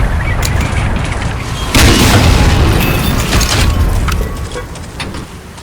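A German 88 field gun fires at a tank in the Medal of Honor Spearhead war game. A heavy, close boom with a rumbling blast swells, then slowly fades amid crackling battle noise.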